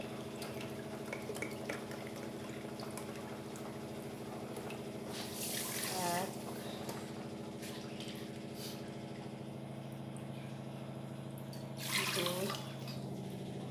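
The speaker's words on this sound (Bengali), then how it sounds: "আর ওতে দিয়ে দেব 3 কাপ জল।" Cups of water are poured into a pot for rosogolla sugar syrup in two brief splashing bursts several seconds apart, over a steady kitchen hum, with a voice speaking briefly.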